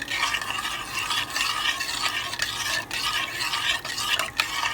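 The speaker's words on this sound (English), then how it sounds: "I'm going to give it a good stir." Spoon stirring milk, butter and cream cheese in a pot for homemade macaroni and cheese, a close, steady scraping and swishing with soft sizzling and occasional clinks, no talking.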